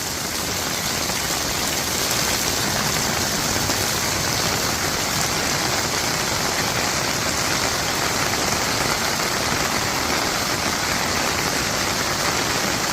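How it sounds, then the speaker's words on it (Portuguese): Heavy rain falls at night in Limoeiro do Norte, a dense, steady roar of drops on surfaces, loud and unbroken throughout with no voices. "Gente, muita chuva aqui em Limoeiro do Norte."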